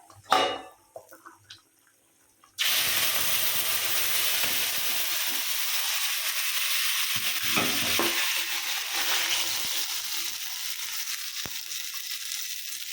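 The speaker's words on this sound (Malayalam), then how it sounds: "ഞാനിപ്പോൾ ഈ അടുപ്പത്ത് തന്നെയാണ് മീൻ വറുക്കാൻ വെക്കുന്നത്" Fish fries in coconut oil on a stove. A few quiet clatters come first, then a sudden loud, steady sizzle and crackle holds close up to the end.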